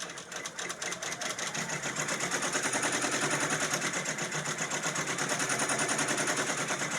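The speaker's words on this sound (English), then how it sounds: "And it's on 800 stitches per minute." A Brother PR680W embroidery machine stitches a garden flag at 800 stitches per minute, a steady, loud, rapid mechanical chatter that runs continuously and close up, with no voices over it.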